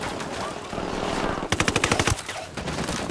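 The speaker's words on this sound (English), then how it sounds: "I'm opening fire on these shitheads." Machine gun fire in the video game Ghost Recon Wildlands: a rapid, loud burst of evenly spaced shots in the middle, with a steady game soundscape before and after.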